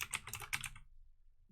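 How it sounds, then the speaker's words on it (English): Quick, faint clicking of keys on a computer keyboard, a short burst of typing that stops abruptly, leaving near silence. "I'm like typing stuff"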